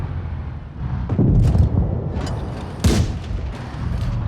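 Two heavy booming tank cannon shots in World of Tanks Blitz, one early and one later, over a constant low engine rumble and battle noise.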